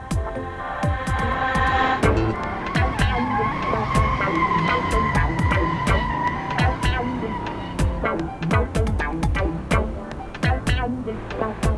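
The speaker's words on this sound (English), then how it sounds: "drifting a big old bus on an old Gran Turismo track" A large bus drifts around an old Gran Turismo track in Assetto Corsa, its tyres squealing in repeated sweeping screeches over a steady engine roar, with sharp bursts of skid noise throughout.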